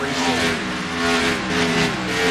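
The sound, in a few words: stock car racing on a superspeedway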